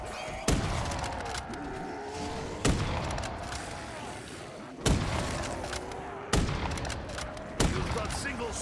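Sniper rifle shots in a Call of Duty zombies gun game on the Zetsubou no Shima map, five sharp loud cracks spaced a second or two apart over a busy game soundscape.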